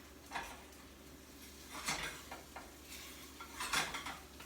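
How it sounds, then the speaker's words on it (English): A spatula scraping around the edges of an omelette in a non-stick pan: soft, intermittent scrapes and light taps against the pan, close and quiet, over a faint low sizzle. "make sure you scrape all the edges"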